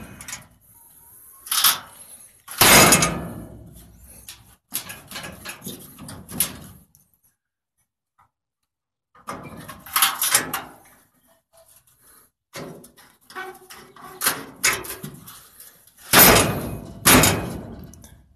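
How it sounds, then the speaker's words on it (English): A rat rod car door fitted with a gate latch handle is opened and shut several times, giving sharp metallic slams and latch clanks in uneven bursts, separated by quiet pauses and small rattles, loud and close. "It's the door handle. As you can see, you got a little gate latch in there, and it holds the door really well."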